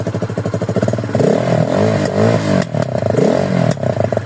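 A Forte Cross 250 motorcycle engine putters in quick pulses, then revs up into a loud, throaty exhaust roar that rises and falls up close.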